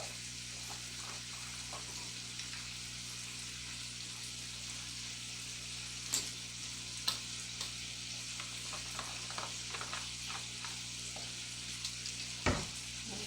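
Homemade baked beans with apple cider vinegar being stirred in a pot: a steady, close sizzling and bubbling bed with a few sharp scrapes and knocks of the spoon, no voices.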